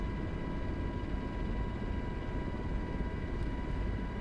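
Steady, faint engine and propeller drone of an aircraft taking off in Microsoft Flight Simulator 2024 near Reykjavik, continuous and even with no talking.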